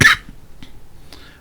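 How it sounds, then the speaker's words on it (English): A single sharp cough bursts out at the start, close and loud, followed by faint quiet room noise with a couple of small soft sounds. "Sorry about the cough there."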